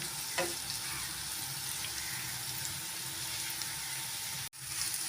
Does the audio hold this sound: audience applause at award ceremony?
no